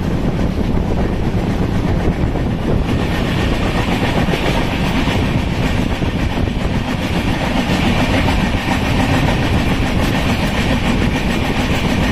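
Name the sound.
goods train passing, coal transport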